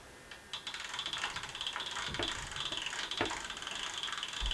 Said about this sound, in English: It's like the clicking of a film reel going through a camera.